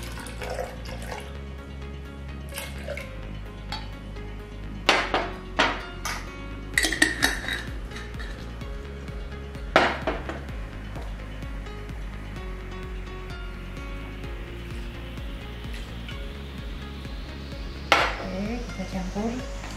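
Spoon or whisk clinking against a bowl while an Italian gelato mixture is stirred by hand, with scattered sharp clinks and soft scraping over a quiet kitchen background.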